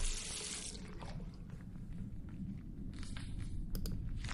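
Water running and splashing as something is rinsed in The Last Door, a steady wash of liquid with a few brief clinks and drips near the end, heard alone at close range.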